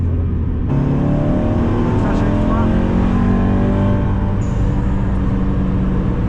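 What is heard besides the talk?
car engine revving while driving on a track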